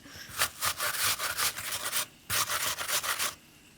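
Rhythmic rasping strokes of an apple being grated, two bursts of quick back-and-forth scraping separated by a short pause, close and fairly loud.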